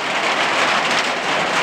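Heavy rain drums steadily on a rabbit barn on a homestead, a loud, dense, continuous patter close overhead, with no voices.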